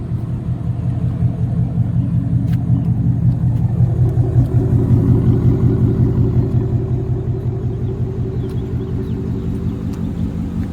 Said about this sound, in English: I'm gonna keep my window up so I can hear that exhaust.